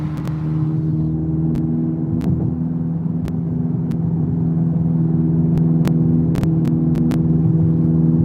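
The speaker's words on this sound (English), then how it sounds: "It just sounds like a CVT transmission" A car cruising on Woodward Avenue accelerates smoothly with no gear shifts, giving a steady droning engine hum and whir from inside the cabin, loud and continuous with a few faint ticks.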